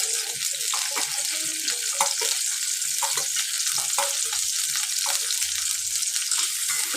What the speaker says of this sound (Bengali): তেল দিয়ে দেখুন পেঁয়াজটা দিয়ে দিলাম